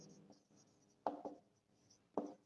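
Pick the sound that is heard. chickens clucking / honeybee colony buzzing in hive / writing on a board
writing on a board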